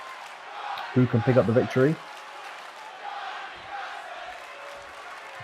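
A wrestling crowd at an FDW show keeps up a broad, steady roar in the background, while someone speaks loudly over it for a moment.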